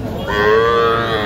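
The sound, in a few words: bull calves mooing at a cattle market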